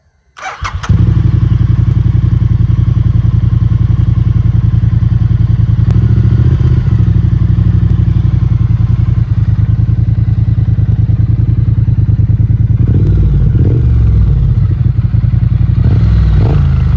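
A Triumph Bonneville Street Twin 900 starts up and runs, very loud and close, a steady throbbing twin-cylinder idle with brief rev swells near the end.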